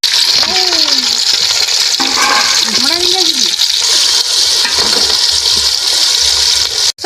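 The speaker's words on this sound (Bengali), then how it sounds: "এই তেলের মধ্যে আমি টমেটোটা দিয়ে দিচ্ছি। এই কুচানো পেঁয়াজগুলোও তেলের মধ্যে দিয়ে দিচ্ছি।" Tomato and chopped onion sizzle in hot oil while a village-style desi chicken curry is made, a loud, steady frying hiss under a woman's speech.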